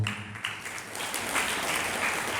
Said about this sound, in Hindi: ताली क्यों बजा दी?